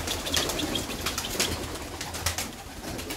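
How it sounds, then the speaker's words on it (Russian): A pigeon beats its wings close by in quick, repeated bursts of flapping, over a soft background of bird sounds. "голубь мой прилетел на сачубы"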